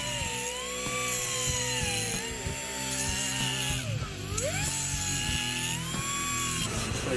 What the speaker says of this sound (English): So we're grinding a little bit off of the flange of the exhaust